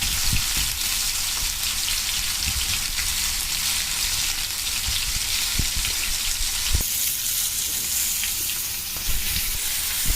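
Pink perch wrapped in banana leaf frying in a pan: a steady, close, loud sizzle with scattered pops and crackles running the whole time, and no talking.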